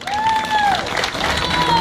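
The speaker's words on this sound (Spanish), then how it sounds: "fuerte el aplauso" Loud applause from a crowd at a nighttime Argentine tango show in Buenos Aires, steady clapping with sustained tonal sounds running through it.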